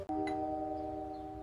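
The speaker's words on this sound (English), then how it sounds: "The tiny doorbell looked cute online" A tiny doorbell rings once with a clear, sustained electronic chime that holds steady and slowly fades, loud and close.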